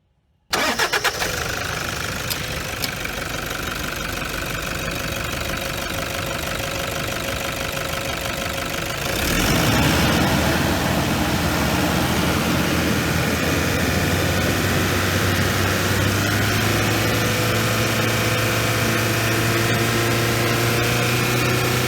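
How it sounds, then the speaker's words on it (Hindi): Toyota Fortuner TRD Sportivo 2013 with a 3.0 D-4D KD diesel engine cranking and firing, then settling into a loud, steady, clattery diesel idle heard close up for about twenty seconds without talk. "तो ये थी टोयोटा केडी डीजल इंजन की साउंड।"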